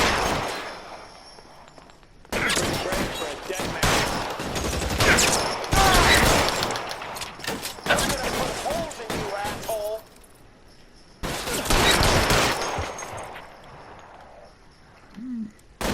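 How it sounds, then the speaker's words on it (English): Bursts of gunfire from a shootout in the video game L.A. Noire, dense rapid volleys in several loud waves with brief lulls between, heavy and close, with clattering impacts mixed in. "Throw out the guns."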